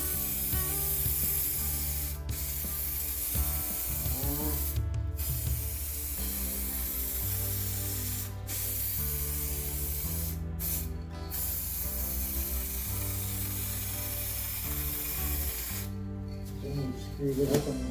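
Spray painting a car bumper: a steady, close, loud hiss of the spray gun runs through with brief breaks between passes, over background tones, with no one speaking.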